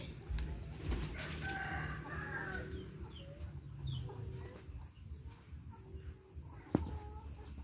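A rooster crows among clucking hens on a small Thai farm where eggs are being collected; the drawn-out crow rises early, followed by scattered clucks and farmyard noise at moderate distance.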